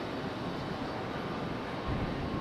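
Delta and JetBlue airliners depart from Raleigh Durham International Airport, heard as a distant, steady jet roar that swells slightly toward the end.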